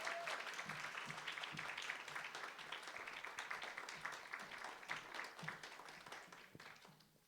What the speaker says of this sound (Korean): 박수를 계속 쳐달라